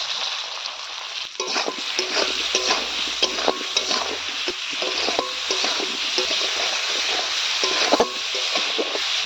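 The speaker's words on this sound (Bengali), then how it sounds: "ভেজে রাখা ফুলকপি আলু ফুলকপি ভালো করে কষিয়ে নিয়েছি" Fried cauliflower and potato sautéed with turmeric, cumin, dried chili and ginger paste, loud close sizzling with rapid rhythmic spatula scrapes and clacks against the pan throughout.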